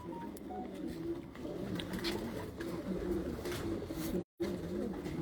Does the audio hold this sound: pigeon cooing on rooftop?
yes